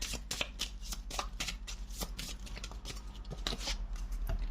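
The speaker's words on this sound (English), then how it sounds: "I'm shuffling it." Rapid, crisp riffling of tarot cards being shuffled, a steady flurry of papery flicks close up with no voices.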